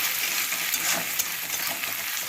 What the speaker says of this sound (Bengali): এবারে রসুন বাটাটা দিয়ে দিলাম দিয়ে আমি একটু ভেজে নেবো